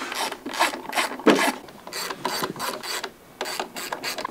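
Battery hardware bolts tightened on a Razor Crazy Cart during an 1100W 48V upgrade kit install, giving repeated close, loud rasping ratchet strokes in an uneven rhythm with brief pauses between pulls.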